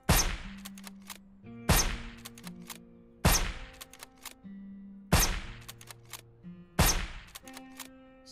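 Gunfire rings out while shooting enemies in the zombie survival game SurrounDead: five sharp, loud shots spaced evenly about a second and a half apart, each with a ringing tail.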